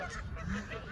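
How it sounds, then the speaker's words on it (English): Ducks at a pond squawk and honk after being fed, a brief burst of overlapping calls in open air. "She fed all the ducks. Look, they're like all mad now because she's run out of food."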